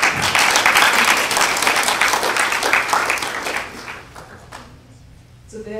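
Dense applause from an audience at a college student presentation event at the Chicago Botanic Garden, welcoming a mentor; loud, steady clapping that fades out near the end, with a few scattered claps after.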